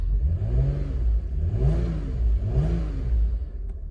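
A 1999 Audi A6 with a 2.8 L engine, newly fitted with a replacement alternator, idles and revs in two or three close, loud surges of rising and falling engine pitch over a steady running drone.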